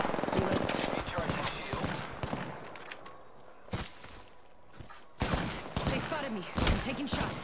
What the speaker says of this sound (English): the enemy shooting at me